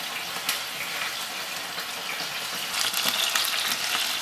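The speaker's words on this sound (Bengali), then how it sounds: "ভাজা ভাজা হয়ে এসেছে। হোয়াইট ফিশ বেশিক্ষণ সময় লাগে না ভাজতে।" White fish fries in a pan over lowered heat, a soft, continuous sizzling hiss that swells slightly louder toward the end, with no talking.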